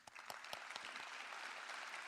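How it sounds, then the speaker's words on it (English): Steady audience applause at an awards ceremony, a dense continuous wash of many hands clapping with a few sharper claps near the start, heard faintly from a distance and without talk. "I'd like to first give the round of applause to Angel and Jos"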